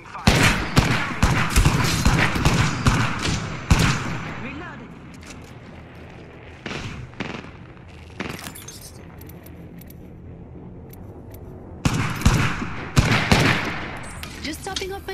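Gunfire in the Apex Legends video game comes in loud bursts of rapid shots at the start, a quieter lull with scattered single cracks, then renewed volleys toward the end.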